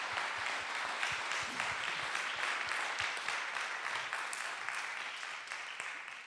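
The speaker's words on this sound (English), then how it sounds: "still an applause for our contact notes" Audience applause at a Sustainable Blue Economy Partnership kick-off meeting, steady clapping from a seated crowd throughout, with individual claps standing out and a slight fade toward the end.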